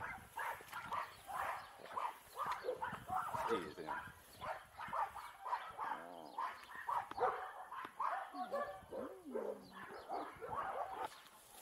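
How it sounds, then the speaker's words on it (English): Dogs on a farm bark, yip and whimper in quick, busy bursts close by, mixed with people talking over them throughout. "That's Smurf barking off."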